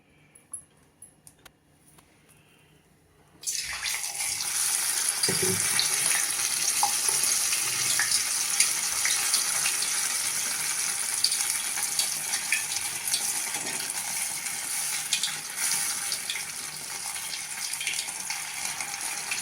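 Batter-dipped bread rounds for South Indian bread pakoda drop into hot oil and set off a loud, steady sizzle and crackle of deep frying that runs on after a quiet start.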